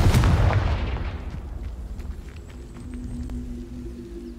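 A Confringo spell explosion in the video game Hogwarts Legacy, a loud booming blast at the start that decays into a rumbling tail with scattered faint crackles.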